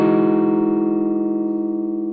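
A tapped major 9 chord on electric guitar in math rock style rings out with a bright attack, then sustains and slowly decays for about two seconds, alone and up close.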